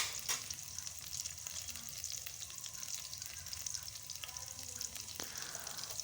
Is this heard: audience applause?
no